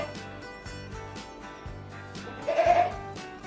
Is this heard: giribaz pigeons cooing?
no